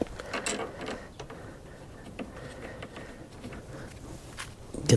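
Bolts being tightened on the handle of a Powersmart gas lawnmower, with a run of faint ratcheting, clicking metal mechanism sounds over a low background hum, close by and without speech.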